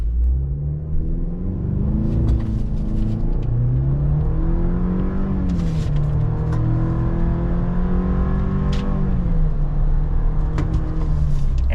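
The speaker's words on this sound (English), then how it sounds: "We're gonna do another revved launch and see what it can do." A 2.7-litre turbo pickup truck engine roars up through the gears in a revved launch, loud and close, pitch climbing, dipping at shifts, then climbing again.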